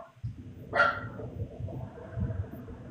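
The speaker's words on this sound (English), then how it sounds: "someone's got a dog barking there in the background" A dog barks once in the background, a single sharp bark at moderate distance, set against a low, steady indoor hum with no talking.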